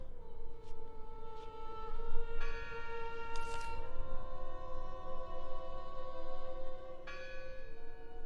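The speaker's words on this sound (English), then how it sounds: "Listen! The bell! They're still in there!" A church bell in the Draugen video game rings out in a few separate resonant strikes, with lingering tones over a steady ambient background and no talking.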